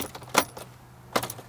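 A bunch of car keys for a Golf GTI jangles in two short metallic bursts close up, separated by a quiet gap.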